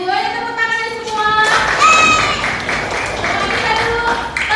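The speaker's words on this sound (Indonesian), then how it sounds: "Ayo tepuk tangan semua." Children in a classroom clap along together, a burst of dense overlapping hand claps that starts partway through and carries on steadily after a voice speaks.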